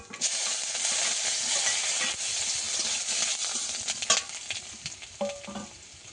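Chopped garlic fries in oil in a pan alongside nigella seeds, giving a bright, close sizzle with scraping stirs and light metallic clinks.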